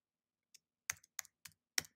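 Keys click on a computer keyboard while someone types a short caption on a desktop: five quick, faint taps spread over two seconds, heard alone in a quiet room.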